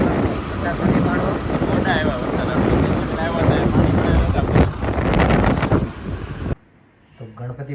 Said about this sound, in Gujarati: અત્યારે ઠંડો પવન આવે છે.